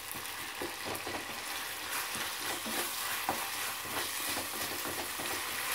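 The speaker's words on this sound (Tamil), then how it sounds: "இது நல்லா பச்சை வாசனை போகிற வரைக்கும் நல்லா கொஞ்சம் கொதிக்கட்டும்." Sambar simmering in a pot while being stirred, a soft continuous bubbling sizzle with faint scraping strokes throughout, no voices.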